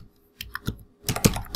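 Brief bursts of keystrokes on a computer keyboard, a few quick clicks after a pause, close and fairly quiet with no talk.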